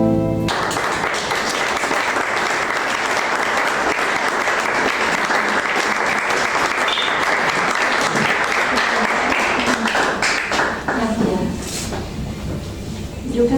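An audience applauding at the presentation of a poet's poetry book "Decir nadie", loud, dense clapping that goes on for about ten seconds and then thins out, with a voice starting near the end.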